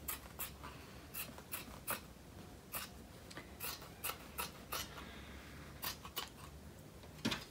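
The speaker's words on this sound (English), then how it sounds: "you're just going to trim your fabric down to the edge of your wooden frame" Scissors trim fabric along the edge of a wooden punch needle frame, a series of short crisp snips repeating in irregular bursts, close and fairly quiet, with no talking.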